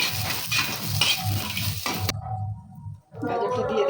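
Broken cashews and pistachios stirred in hot ghee in a non-stick pan while making carrot halwa, a steady sizzle under scraping stirs, with a brief pause before the frying resumes.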